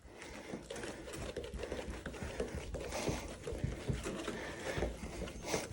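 A DIY Detail clay towel rubs scratchily across car paint in a steady, fast, gritty friction noise, close but fairly quiet, with no talking.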